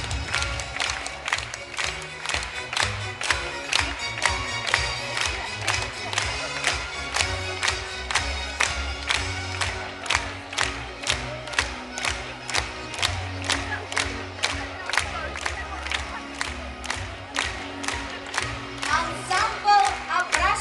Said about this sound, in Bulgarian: Моля аплодисменти за фолклорен танцов ансамбъл Чубанашул, град Чиуц